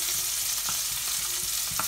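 Onions sautéing in a pan for a steak-and-vegetable dish give a steady, close sizzle, with a few soft scrapes from stirring and no talk.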